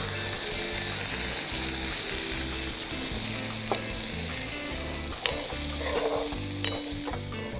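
Tamarind leaves fry in a little oil with a dense, continuous sizzle close up, broken by a few sharp clicks from a utensil.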